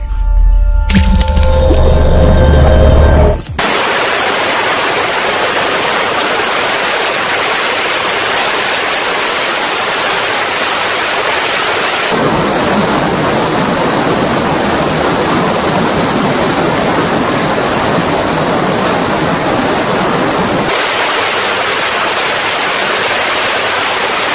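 A homemade ultrasonic cleaner with a transducer horn under a pan runs loudly and steadily, a dense continuous hiss with a high whine that shifts pitch partway through, after a brief muffled clatter at the start; no voices.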